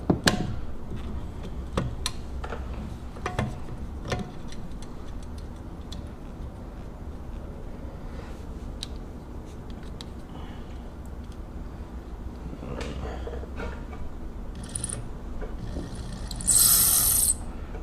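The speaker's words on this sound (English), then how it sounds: "motor's got a bit of sound to it." A Kenmore 1201 sewing machine motor runs with a quiet, continuous mechanical whir punctuated by scattered ticks and clicks, plus a brief brighter burst near the end; no speech.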